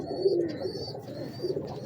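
Pigeons of a Ferozpuri and Misri cross-breed coo softly up close, a low throaty burbling with a faint high whistle-like tone in the background and no voices.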